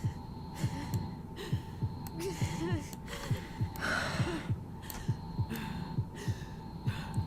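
Heartbeat sound effect in the video game Tell Me Why, a steady rhythmic low thumping pulse over a droning hum, with faint breathing and background noise throughout.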